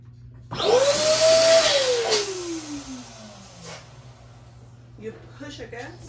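An electric balloon pump whirs loudly as it inflates a 12-inch balloon, its pitch climbing and then sliding down over a few seconds before cutting off, with a person speaking afterward.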